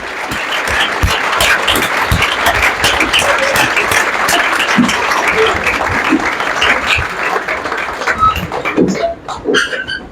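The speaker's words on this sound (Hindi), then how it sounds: "एक बार जय गणेश के लिए एक बार इतनी ही तेज ताली होनी चाहिए" An audience at a ceremony honouring successful students of a Raebareli coaching institute claps loudly and densely, with a few sharper claps standing out. The applause thins and tapers off toward the end.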